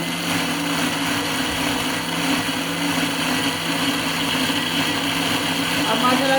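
A blender whirs steadily, blending almonds for badam sharbat, a sweet almond drink, in a continuous loud motor drone with no pauses from start to finish.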